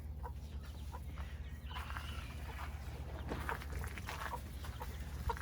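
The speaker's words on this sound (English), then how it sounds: "And then as a special treat, yes, we do get lots of little chicks on the farm." Chickens cluck softly on a farm with chicks nearby, a steady low background hum running under the scattered, fairly faint clucks throughout.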